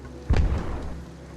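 A bomb goes off in the video game Eastward: one low, booming thud that swells suddenly, then trails into a soft rumbling tail with no voices over it.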